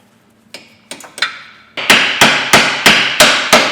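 Hammer tapping a car hub part fully home on a Ford Mondeo Mk5 during a diff flange oil seal job, a few light taps followed by six loud, evenly spaced metallic blows, close and alone.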